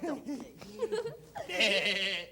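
A voice imitates a sheep bleating in a children's TV show, with a wavering, quavering baa that rises out of a stretch of talk and holds near the end.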